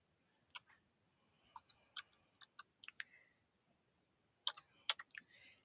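Keys tapped on a computer numeric keypad while entering numbers, a quiet series of sharp clicks in short irregular bursts with a pause before a final cluster, no talking.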